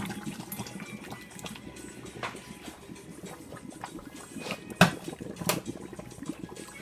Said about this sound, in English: And I'm going to run some cold water.